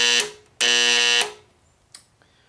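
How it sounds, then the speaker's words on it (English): A darkroom timer's alarm buzzes loudly in two harsh, tonal bursts, a short one followed by a longer one of about half a second, then a faint click or two afterward. "this might be the alarm"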